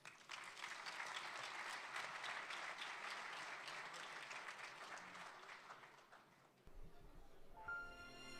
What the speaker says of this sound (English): Please join me in a round of applause for Mrs. Cynthia Baroud.